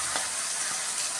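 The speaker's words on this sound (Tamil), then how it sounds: "இஞ்சியும் பூண்டையும் நல்லா அரைச்ச பேஸ்ட்டும் போட்டாச்சு." Ginger garlic paste frying with tomatoes in a pan for a Tamil chicken gravy, a steady close sizzle with faint stirring, no voices.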